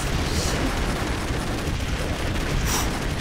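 Explosions in the run-and-gun video game Broforce, a dense continuous blast of booming, crackling detonations and gunfire with bright bursts near the start and end, loud and close with no talk over them.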